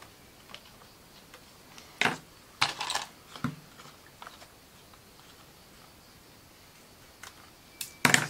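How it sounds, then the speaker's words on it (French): Scissors make short, crisp snips at irregular intervals, quiet and close, with near silence between the cuts and no voices. "C'est les vieux ciseaux qui coupent le mieux"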